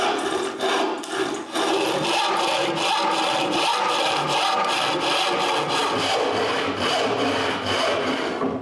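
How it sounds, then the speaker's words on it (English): A handsaw rasps through a clamped wooden workpiece in a workshop, giving steady back-and-forth stroking scrapes at close range with no talk. "I finish the cuts with a handsaw"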